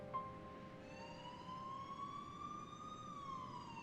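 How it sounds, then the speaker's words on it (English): Police sirens wail in the distance in the 428: Shibuya Scramble game, a faint, rising and falling electronic tone drifting steadily over a low nighttime hum. "In the distance, she could faintly hear the sound of police sirens."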